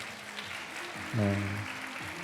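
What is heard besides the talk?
audience applause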